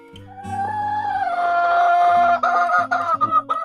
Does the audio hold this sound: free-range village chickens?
yes